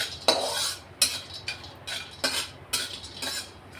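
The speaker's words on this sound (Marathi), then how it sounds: "हिंग आहे त्यामध्ये टाकायचे आणि परतून घ्यायचे आहेत" Spices with asafoetida being stir-fried in a pan for Kolhapuri masala: repeated scraping clinks of a spoon against the pan every half second or so, close and moderately loud, with no talking.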